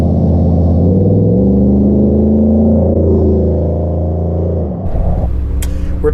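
A Ford truck engine with a Borla restrained exhaust rumbles loud and close, holding a deep, steady drone with shifting tones before easing off near the end, followed by a brief rustle.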